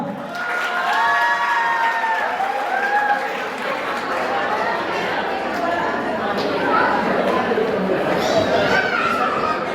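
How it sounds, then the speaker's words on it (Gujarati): Applause and cheering from the audience at a school reunion event, a dense crowd roar of clapping and shouting with voices over it, loud and sustained throughout. "તાળીઓ પાડો બધા"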